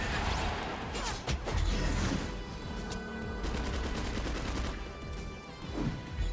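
Rocket's special attack in Marvel Strike Force, a rapid volley of loud game gunfire with whooshing blasts, several rattling bursts over layered effects without talk.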